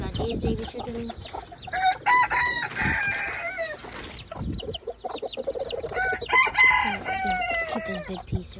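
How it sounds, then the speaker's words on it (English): Chickens cluck and call in a busy farmyard chorus at feeding time, with overlapping chirps and a crow-like call rising and falling at moderate distance throughout. "Now we got these baby chickens"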